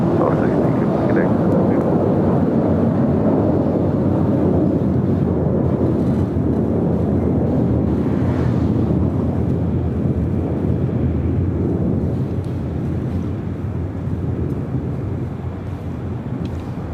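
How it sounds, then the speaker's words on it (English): A United Airlines Boeing 737-900ER takes off at a big-city airport, a broad, rumbling engine roar that is strong at first and slowly fades as it moves away, with wind buffeting the microphone. "Taking off, that was United Airlines flight 1260 heading to Denver in a 737-900 ER"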